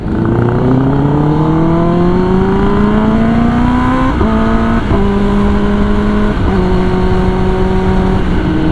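A Kawasaki ZX-10R sport motorcycle engine revs loudly and close by, its pitch climbing steadily before dropping and settling through a few stepped changes.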